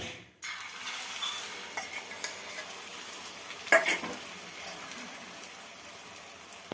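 Omelette batter with onions poured into oil on a hot griddle pan, sizzling steadily after a sharp start, with occasional clinks and scrapes of a utensil against the pan.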